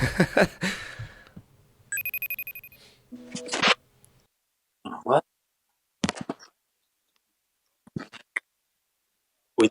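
FaceTime video call ringing on a phone, a repeating electronic ring tone in short bursts between spells of chatter and silence, with people talking nearby.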